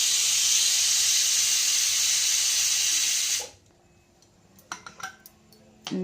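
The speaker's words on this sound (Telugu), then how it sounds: "యువతలేమో పప్పు ఉడుకుతుంది, ఆకులేమో కోడిగుడ్లు ఉడుకుతున్నాయండి పొయ్యి మీద" Pots of dal and eggs boiling on a stove give off a loud, steady steam hiss that suddenly stops, leaving a quiet kitchen with a few light metallic clinks and taps.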